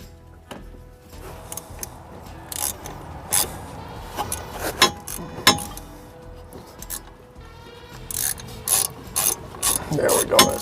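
Ratchet wrench clicking in short bursts while threading wheel bearing bolts on a 2014 Subaru Outback rear hub, with metallic clinks between runs and no talk.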